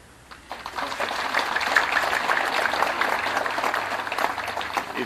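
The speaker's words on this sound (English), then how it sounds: "It's good you are clapping for yourself" Sustained audience clapping at a live event releasing national exam results. The clapping starts suddenly after a short quiet moment, then holds as a dense, steady wash of many hands from a large crowd.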